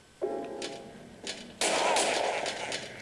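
Gunshots crack in the video game Silent Hill 4: a single shot, another a second later, then a louder, denser burst of fire with no talk over it.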